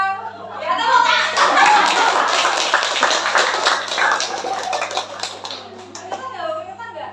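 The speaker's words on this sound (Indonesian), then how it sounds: "Ya, tepuk tangan." A group of children clap together through a classroom movement game, sustained dense applause with some chatter and voices mixed in.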